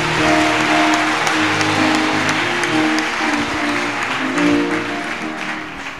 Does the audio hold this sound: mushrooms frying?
no